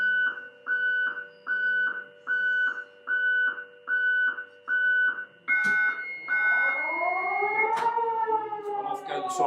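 A control panel in a nuclear bunker gives a series of repeated electronic warning beeps in a regular on-off pattern, then a rising wail of an air-raid siren sweeps in as the beeps stop.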